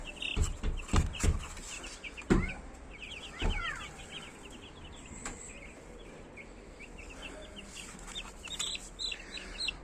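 Fifteen young Ross 308 broiler chicks cheep constantly in high, thin peeps, with a few louder knocks and thumps near the start and no voices.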